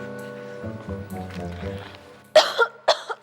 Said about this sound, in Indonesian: Ganggu orang lagi batuk aja ya.